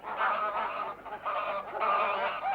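Loud, nasal honking from a group of ducks, repeated calls in bursts that overlap continuously, close by and without speech.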